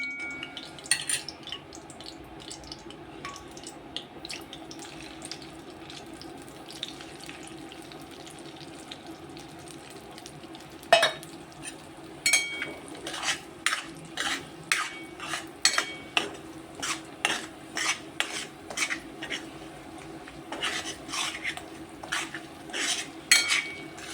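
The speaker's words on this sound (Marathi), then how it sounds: "आता तूप टाकून घेतलंय आपण कढईत तूप पण वितळलंय आता त्यात रवा टाकून घेऊया" A spoon scrapes and stirs semolina in melted ghee in a metal wok in a quiet kitchen, sparse at first, then a steady run of short, sharp clinks and scrapes.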